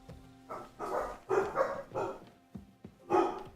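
Dogs bark in a video game, with several sharp, mid-distance woofs coming in irregular bursts and short gaps between them, over a quiet background.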